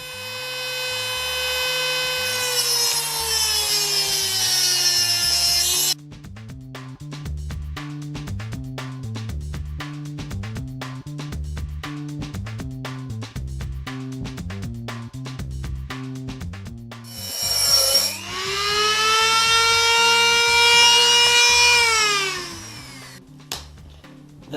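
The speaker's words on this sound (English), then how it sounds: "the metal shavings that I might get on this from grinding it open" Power tool grinding open a metal oil filter: a loud, close whine that bogs down as it cuts, turning into rapid chattering pulses, then revving back up into a high steady whine.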